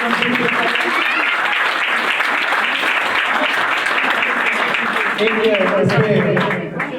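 Loud, sustained applause fills a hall at a retirement party for an Air Force officer, many hands clapping continuously before fading as a voice starts speaking.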